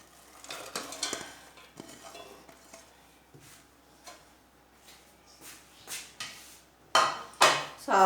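Shredded cabbage is tipped into a bowl to make Chinese pakora, with soft rustling and several light clinks and scrapes against the bowl, louder toward the end.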